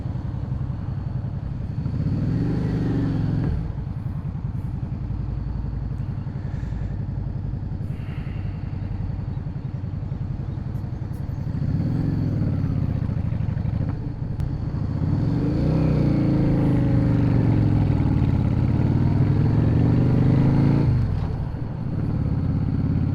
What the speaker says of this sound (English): My bike does not like sitting here on this hot day in this traffic.